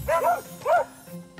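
A dog on a walk outside reacting to passers-by such as cyclists and pedestrians, giving two sharp, close barks with a yelping edge and a brief pause between them.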